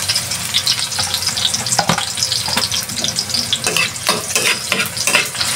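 Native chicken adobo frying in a generous amount of oil in a pan, a dense crackling sizzle with repeated scraping and stirring strokes, close and continuous.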